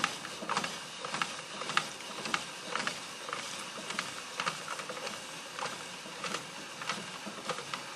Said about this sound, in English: I'm just going to turn the handle, and the noodles are spiralizing out